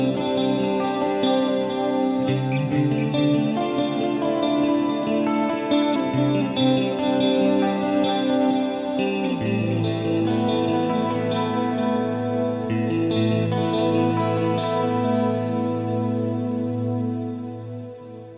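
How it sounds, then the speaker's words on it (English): Schecter Nick Johnston Traditional electric guitar chords wash out in a huge ambient haze of cloud reverb, long echoing delay and shimmering chorus, played alone and sustained throughout. "We'll swap out the reverb to one of the cloud reverbs, add a big delay as well as a chorus."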